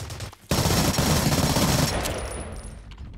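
Sustained rapid automatic gunfire from the video game Blacklight Russia, loud and dense, bursting in after a brief quieter lead-in and rattling continuously before tapering slightly at the end.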